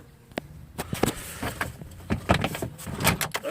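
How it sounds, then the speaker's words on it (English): Plastic clips are pried out of the back of a Chevy Trailblazer door panel, giving a string of sharp snaps, creaks and rattling knocks up close, with no talking. "start pulling these clips out of the back of this door panel"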